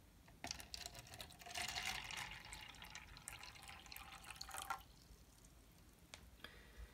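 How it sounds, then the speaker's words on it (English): Water is poured into a cup for a lid experiment, about 62 degrees, making a soft continuous trickling splash that builds and runs for about three seconds before stopping, then a few faint drips in a quiet room. "We'll pour the water in."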